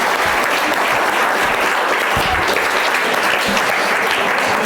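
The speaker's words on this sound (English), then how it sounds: "Just one more special round of applause for our artist that created that very special." Loud, sustained applause from a charity auction gala audience, dense clapping close and steady throughout without a break.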